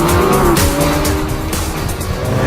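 A 2015 Lamborghini Aventador Roadster with a naturally aspirated 6.5-liter V12 mounted amidships accelerates hard, a loud, continuous engine roar with rising and shifting pitch, close and alone, with some tire noise underneath.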